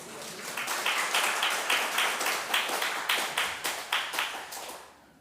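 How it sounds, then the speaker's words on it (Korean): A church congregation claps together during a Sunday service, the crisp claps falling into an increasingly regular rhythm before stopping abruptly. "우리 40, 50대 힘내라고 박수 한번 해주십시오"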